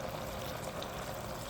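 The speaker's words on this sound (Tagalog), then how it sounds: "So, lagyan natin ng kaunting tubig." A small amount of water pours steadily into a cooking pan of pork, shrimp and pechay, a soft, even trickling stream heard up close with no talking.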